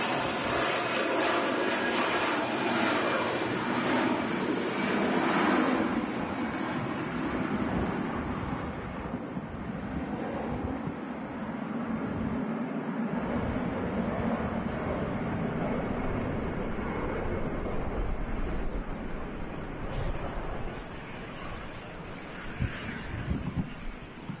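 A Boeing 757 airliner arriving at Manchester Airport roars steadily for the whole stretch, a loud, broad engine rumble with some wind buffeting on the microphone and no one talking.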